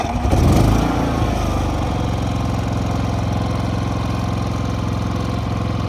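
A Predator 5000 inverter generator's engine starts with a loud burst, then settles into a steady, even running hum close by, with no voices over it.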